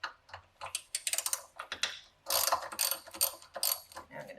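A ratchet wrench clicking quickly to remove a 10mm bolt on the air box of an Alfa Romeo Giulia, close bursts of rapid metallic clicks in uneven runs with brief pauses between them.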